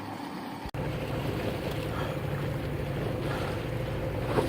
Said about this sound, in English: This is actually a boat ride that we did in the middle of the ocean.